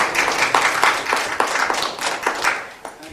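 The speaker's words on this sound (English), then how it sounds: "big round of applause for Ryan" Applause for Ryan, a MindFreedom member about to speak on coercive psychiatry, as a small group claps unevenly for about three seconds, with a few individual hand claps standing out.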